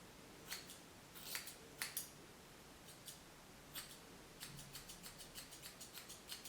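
Scissors snipping through hair during an at-home haircut, a series of crisp close cuts at irregular intervals that speed into a quicker run of snips near the end, with no talking.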